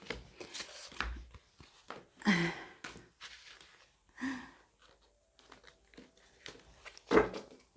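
A deck of tarot cards shuffled by hand, giving irregular papery riffles and crinkly bursts at close range, with brief pauses between handfuls and no one talking.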